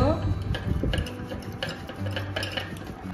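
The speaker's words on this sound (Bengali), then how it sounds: "এই যে ডালের ঘুটনিটা দিয়ে এভাবে মিশিয়ে নেব" A wooden dal whisk stirs sugar into lassi, giving soft repeated clicks and scrapes against the vessel in an uneven rhythm, close and fairly quiet, with a voice speaking over part of it.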